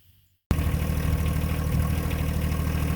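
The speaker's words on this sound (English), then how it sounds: "Tractor started right up" John Deere 1025R compact tractor engine catching abruptly after a brief quiet, then settling into a loud, steady rumbling idle close by.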